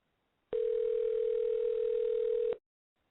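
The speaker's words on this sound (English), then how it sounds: "we're dialing him right now, so hopefully he's back" Telephone tone while placing a call: a single steady, clean tone sounds for about two seconds, then stops abruptly, alone against near-silence.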